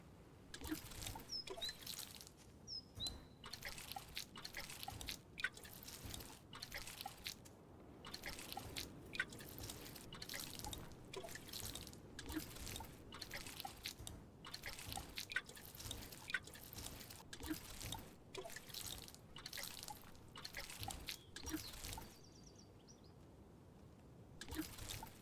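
Watering crops in the farming video game Grimshire gives a soft, continuous patter of dripping and trickling water, quiet and steady throughout, with no talking over it.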